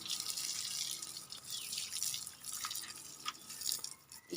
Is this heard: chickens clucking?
no